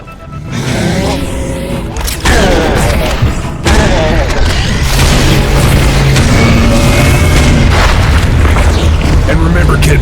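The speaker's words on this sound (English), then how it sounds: "belchers explode, so stay clear of their barf radius" Heavy, booming blasts and a continuous roar of game combat from Serious Sam 4 as a Belcher monster explodes, loud and dense, with a voice talking over the chaos.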